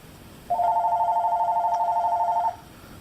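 A landline telephone rings indoors in one steady warbling burst of about two seconds, close and clear over quiet room noise, with no talking.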